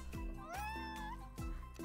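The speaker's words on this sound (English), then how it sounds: "Kitty!" A cat in the cozy game Minami Lane gives two or three close, clear meows in quick succession, one drawn out with a rising and falling pitch, alone with no talking.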